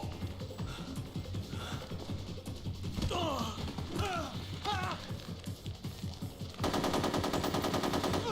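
Rapid automatic gunfire from the video game Metal Gear Solid 3 rattles in bursts over game sounds, building to a dense, sustained loud volley near the end.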